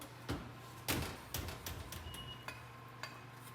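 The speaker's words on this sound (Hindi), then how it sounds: "मैं ओवन को खोल लेती हूँ" An oven door being opened in a home kitchen, a few close clunks and metallic clinks in quick succession over a steady low hum.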